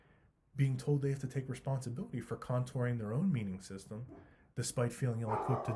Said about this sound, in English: you might hear a barking dog in the background.